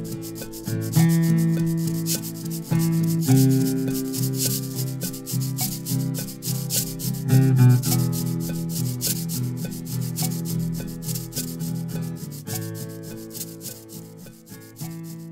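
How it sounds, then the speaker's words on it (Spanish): Cabasa shaken and scraped in shifting rhythms, a dense, close rattling scrape that pulses steadily throughout, with no voice, though tonal notes underneath suggest other instruments sounding alongside. "voy a utilizar mi cabaza y voy a darle un poco de rítmicas distintas y vamos a ver qué sale"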